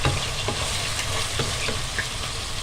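Onion frying in a pan with salt and black pepper as a sauce base, a continuous close sizzle with scraping stirring strokes and no talk.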